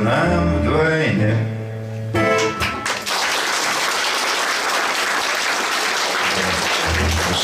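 Sustained audience applause from a concert hall crowd, following a sung passage with a lingering note; clapping swells in and continues loud and dense for several seconds without talk.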